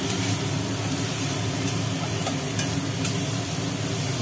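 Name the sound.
spice masala being sautéed with salt in pan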